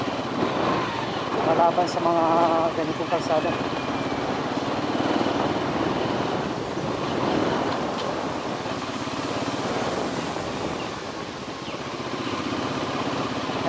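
Motorcycle engine droning steadily while riding a slippery, muddy rural road, with someone talking over the continuous hum throughout.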